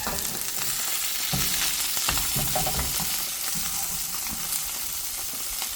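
Salmon fillet skin-side down searing in a hot pan, a steady close sizzle and crackle of frying oil with small pops and stirring-like rustles, no voices.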